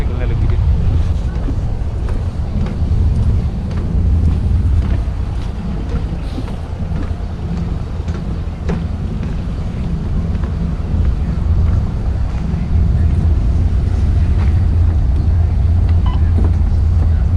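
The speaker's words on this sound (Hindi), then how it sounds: "बैठ गया हूँ पहली बोट की सवारी में।" Water taxi boat ride in Dubai, with a steady low engine rumble and constant wind buffeting the microphone throughout, loud and continuous with no clear speech.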